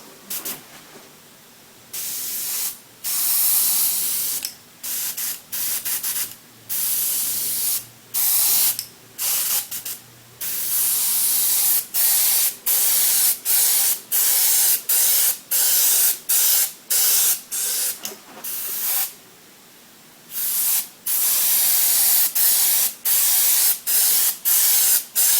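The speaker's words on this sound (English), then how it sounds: "Maybe do another test spray." An airbrush spraying paint in a test run for a graduated rectangle, heard as repeated short hissing bursts of varying length separated by brief pauses, close and steady, with no talking.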